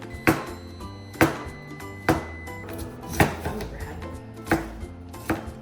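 Tomatoes and basil chopped with a sharp kitchen knife for homemade pizza, about six distinct, evenly spaced thuds on a board, close and clear over background music with no talking.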